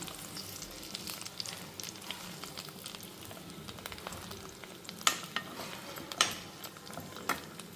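Bitter gourd pieces fry in a pan, turned so every side browns, giving a low steady sizzle with light crackling and a few distinct utensil taps and pops.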